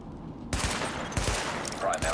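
Repeated gunfire at highlighted practice targets during a weapon test in The Division, arriving as sharp bursts after a quiet opening and recurring through the clip, with a faint voice underneath.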